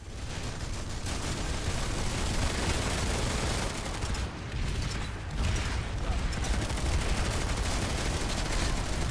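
Rocket and weapon fire in Planetside 2 during an assault at Andvari, a dense, continuous barrage of booming shots and mechanical rattling that stays loud throughout, with slight dips midway.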